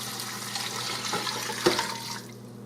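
Chicken broth pours into a pressure cooker holding a ham bone, a steady close splashing stream that thins and tapers off near the end, with no talking.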